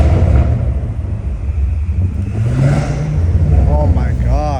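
Straight-piped BMW M5 Competition exhaust, loud and close from inside the car, a deep rumbling drone rising as it revs and accelerates, with a whistling climb near the end.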